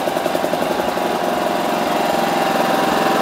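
A hand-portable 2.3 kVA inverter generator, bought for disaster preparedness, runs steadily with a close, loud, even engine drone and fine rhythmic pulsing, heard alone without voices.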